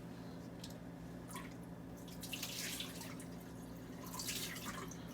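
Chicken broth poured into a pot for keto French onion soup gives a soft, continuous liquid splash and dribble, with a few louder gushes, close and moderately quiet.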